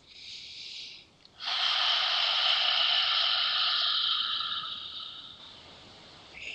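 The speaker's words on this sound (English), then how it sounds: "grounding breath is in through the nose and out through the mouth with a kind of relaxed jaw" A slow, deliberate breath in through the nose and out through the mouth: a short inhale, then a long, steady exhale with a soft airy hiss, close and alone.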